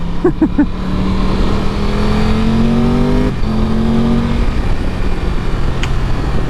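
A Himalayan motorcycle engine in GTA 5 revs loud and continuous, its pitch climbing through gear shifts with a short dip partway.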